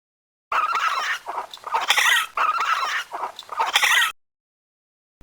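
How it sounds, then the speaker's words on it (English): Raccoon calling with four harsh, chittering bursts, each lasting under a second, loud and close with rough, noisy texture and short pauses between them, then silence. "raccoon"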